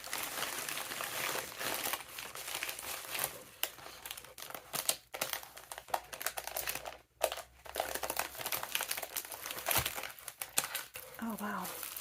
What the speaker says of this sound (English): So let's go ahead and open up my happy mail.